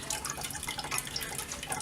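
Juice drips steadily through a wheatgrass press masher, making a fine, continuous patter of small drops that stays faint and close, with no voices.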